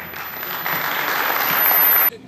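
An audience at a sports award ceremony applauds steadily, a dense, loud patter of many hands that builds slightly and stops abruptly.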